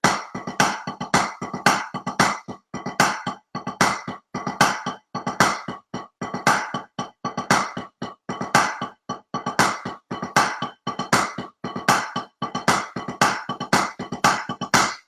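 Drums playing a paradiddle pyramid with a low double breakdown: rapid sticking on drums in repeating grouped bursts with accented strokes, steady and moderately loud, no voices.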